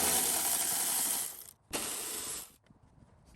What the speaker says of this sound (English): We're gonna loosen the 2 10 millimeter bolts that hold the fuse box to the body